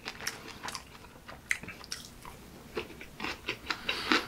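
Close, crisp chewing of pork cutlet gimbap, with soft crunches and wet bites repeating unevenly and no talk.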